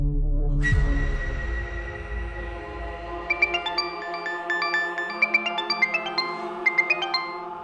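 A mobile phone rings with an incoming call from an unknown number, playing a clear electronic ringtone melody of repeated tonal notes after a brief low rumble and a sharp onset, loud and close.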